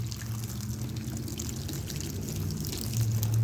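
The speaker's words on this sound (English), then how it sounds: "I'm just gonna water all these here." Water poured steadily over garden plants, a continuous soft splashing trickle with no pauses, fairly close and alone throughout.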